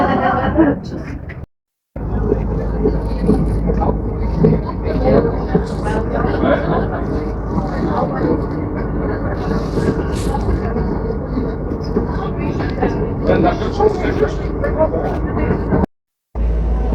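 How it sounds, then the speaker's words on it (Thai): A rack railway train slowly climbs Mount Rigi in Switzerland, a steady rumbling and clattering ride heard from on board, with people talking throughout. "รถขึ้นเขาช้ามากนะครับ ค่อยๆขึ้น ค่อยๆขึ้นนะครับ รถราง"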